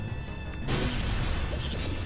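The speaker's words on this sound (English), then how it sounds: "pop him so he falls down and shatters" A boss shatters after falling in the Zelda game Majora's Mask: a sudden bright crash of breaking glass that cuts in partway through and holds as a dense, loud burst of debris over a steady game background.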